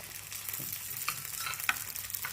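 Batter of a puffed rice (kadalepuri) dosa sizzles steadily in oil on a hot pan, a continuous crackling fry with a few sharper pops, close and moderately loud, with no voices.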